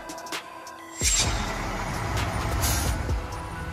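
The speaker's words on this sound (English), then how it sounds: "Tank truck." A tank truck gives a sudden loud air brake hiss after a quiet start, with the release and engine rumble running on steadily to the end.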